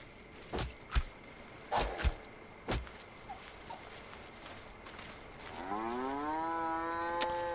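Cows in the game Force of Nature 2 let out a few short low moos near the start, followed by a longer drawn-out moo near the end, all fairly faint.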